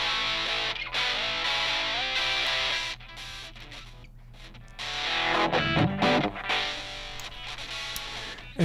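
Distorted, heavily processed music with shifting, thinned-out tone as an Airwindows AngleEQ high-pass filter effect sweeps over it, briefly dropping out before returning louder.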